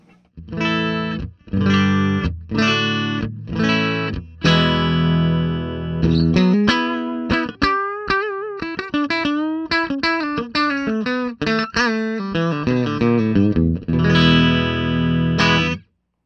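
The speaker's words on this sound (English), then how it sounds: "here I'm plugging directly into the amp" Electric guitar played straight into an amp: strummed chords, then a run of single picked notes, ending on ringing chords, clean and up close.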